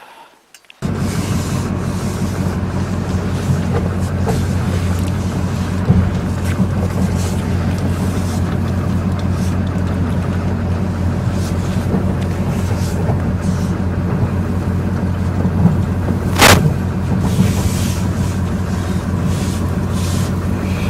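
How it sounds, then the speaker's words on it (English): Papercrete mixer blades churn a pumice mix under a loud, steady mechanical drone with grinding, rubbing texture, continuing unbroken for about twenty seconds after a short quiet start. "As I'm driving, those blades are pulling the mix down in"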